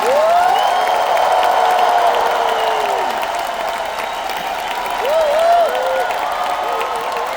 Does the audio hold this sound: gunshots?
no